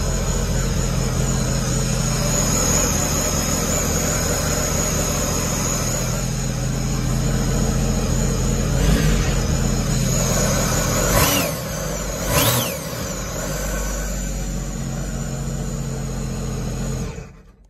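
The engine of a 2022 12-foot Torch Craft Marine mini jet boat runs steadily at idle, loud and close, with a couple of brief revs near the end before it cuts off.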